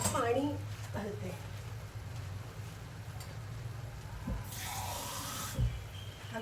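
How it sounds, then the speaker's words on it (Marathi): Water poured into a cooking pot of pulao makes a short, gentle splash and trickle midway, heard against faint kitchen background noise. "म्हणून मी याच्यात थोडंसं आणखीन पाणी घालते"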